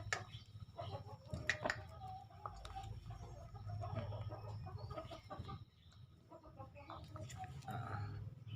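Chickens suffering from a snoring cold cluck and call in a coop, with repeated short clucks and squawks over a low steady hum, fairly close and at moderate volume.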